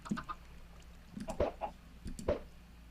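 Minecraft chicken clucking in a video game, with a few short, quiet clucks and clicks spread across a faint, low-level game background.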